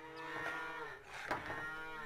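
Cows in the Farmer's Dynasty video game give a faint, low, drawn-out moo against steady farm ambience.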